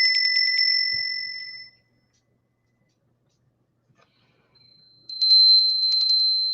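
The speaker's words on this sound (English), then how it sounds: "It's Christmas bells, or my grandmother's Christmas bells." Old brass Christmas bells ring in two bright bursts, a shimmering jingle at the start and another near the end, with a quiet gap between them.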